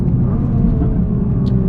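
A Nissan R35 GT-R's twin-turbo engine pulls hard near peak power, a loud close and steady roaring drone that holds without a break through the short stretch.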